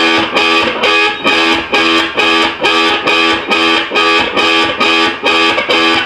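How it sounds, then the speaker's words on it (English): Distorted electric guitar plays an intro part, a fast, even run of about fourteen loud choppy notes, each cut short between strikes for a tight rhythmic pulse. "So to give it a bit of rhythm, we stop the note in between."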